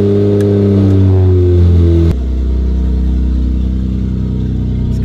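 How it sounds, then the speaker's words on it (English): A Lexus engine fitted with a cheap $25 air intake mod revs hard, rising pitch then dropping sharply into a lower, rough mechanical drone, loud and close with no voices. "Let's go drive the Lexus. Let's see how it sounds with that downplate"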